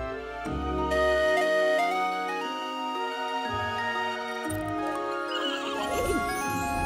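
Cartoon sky horses neigh and whinny over a continuous bright musical score, the calls rising and falling for several seconds with a light jingle toward the end.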